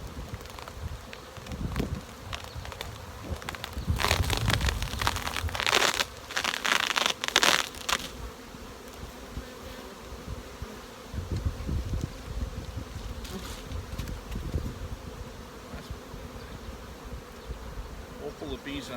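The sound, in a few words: honey bees buzzing in hive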